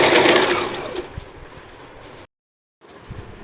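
A sewing machine stitches the sleeve of a kurti, a fast, loud run of needle clatter that gradually softens, then a brief silence before a shorter burst resumes.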